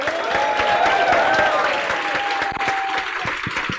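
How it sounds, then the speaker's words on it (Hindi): Students in a classroom clap to welcome a guest at a CA accounts lecture, a loud continuous burst of applause with some whistling, thinning into scattered claps toward the end. "सभी लोग एक बार तालियों से उनका स्वागत करेंगे"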